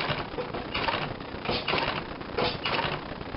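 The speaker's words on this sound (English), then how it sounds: "I'm going to tap the pedal, and you'll see this will do one stitch at a time." A Consew 226 leather sewing machine stitches one stitch at a time, giving a steady run of mechanical clacks and whirring pulses that repeat at a slow, even rhythm up close.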